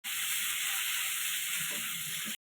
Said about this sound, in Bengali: কালো জিরা, শুকনো লঙ্কা ফোড়ন দিয়ে দিলাম, পেঁয়াজ, টমেটো, কাঁচা লঙ্কা,